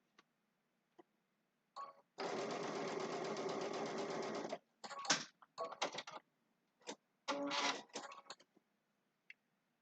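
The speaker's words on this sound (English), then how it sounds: "I'm just going to stitch up near that pin." A sewing machine stitches a seam on a Christmas quilted table runner: one steady burst of about two and a half seconds, then several short bursts with pauses, close and clear with no talking.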